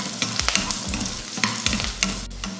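Tamarind with dried chillies and garlic sautés in a hot pan, giving a loud, dense crackling sizzle broken by repeated scraping strokes of a spatula, with no voices.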